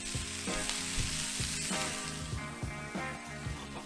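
Sous vide chicken wings sizzle steadily in a cast-iron grizzler pan inside a hot Ooni Koda 16 pizza oven, a loud continuous frying hiss with faint scraping and clanks throughout, no voices.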